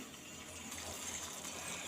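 Water is poured into ground batter in a mixer jar while making Latur-style ambil, a steady, close, even rushing wash of liquid that lasts the whole moment, with no voices.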